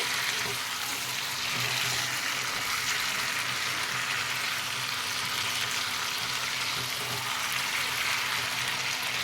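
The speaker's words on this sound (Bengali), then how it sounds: "লবণ হলুদ দিয়ে আলুগুলো দিয়ে দেব, আগে থেকে ভেজে রেখেছিলাম। দিয়ে আবারও নাড়াচাড়া করে নেব।" Salted, turmeric-coated pre-fried potatoes and chicken, cooked with lemon leaves, sizzle steadily in a pan with a continuous broadband frying hiss and faint stirring movement throughout.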